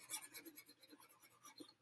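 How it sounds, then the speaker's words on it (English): Marks rubbed off a classroom board with an eraser during a fractions lesson: a faint, rapid series of short scrubbing strokes, close and quiet, with no voice. "So let me erase these over here"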